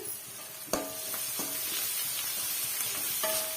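Chopped coriander sautés in hot oil in a pan for semiya kuzhi paniyaram, a steady close sizzle with a few sharp utensil clinks against the pan as it is stirred.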